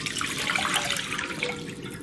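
Four cups of water pouring into a pot for tteokbokki broth over medium-high heat, a steady close splashing stream with no talk.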